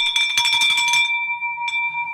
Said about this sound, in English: Let's ring the bell for Dustin, just for taking action